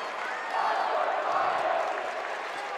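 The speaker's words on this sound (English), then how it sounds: "McNicholas crowd is into it now." High school volleyball playoff crowd in a gym, a steady wash of cheering and applause that swells slightly mid-way, with a commentator's voice running over the noise.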